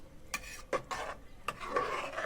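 Nepali khir rice pudding stirred slowly in a pot, a few soft scraping strokes of a spoon against the metal, quiet and close, with a faint simmer beneath.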